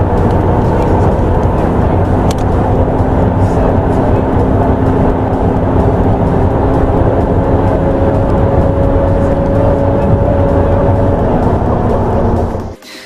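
Jaguar C-X75 hybrid hypercar, driven by a 1.6 engine plus electric motors, accelerating hard: a loud, sustained engine roar with steady rising tones that holds for about twelve seconds, then drops off abruptly at the end.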